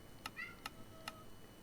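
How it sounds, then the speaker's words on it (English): A cat meows softly indoors, a short mewing call between a few sharp ticking clicks, faint and close over quiet background noise. "Yes, yes, you're gonna meow too."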